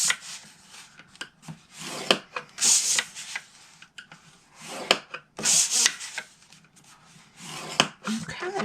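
Cardstock scored with a tool for a paper slider box, giving a series of scraping, rubbing strokes in short irregular bursts, close and moderately loud, with no talking.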